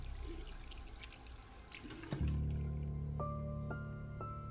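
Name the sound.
faucet turning on, water running into sink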